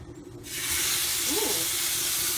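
Food in a hot pan, with a marinade being cooked, bursts into a loud, steady steaming sizzle that rises sharply and then holds as a dense broadband hiss. A brief tonal squeak passes partway through.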